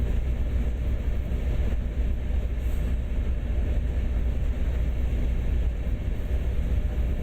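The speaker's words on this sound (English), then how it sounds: "Braking a little too fast, but the train should compensate for that, and you should stop on the platform relatively easily anyway" A commuter train decelerating on the Peninsula Corridor toward a station platform in Train Sim World, heard as a steady low rumble and hum of motors and wheels on rail. It stays constant and fairly loud throughout, with no voices.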